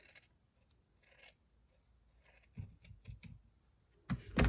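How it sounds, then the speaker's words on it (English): Scissors snipping through a craft oval for a DIY holiday ornament, with faint rubbing at first, then a few close, crisp cuts and a louder final snip. "Now you want to take your oval and you're going to cut it"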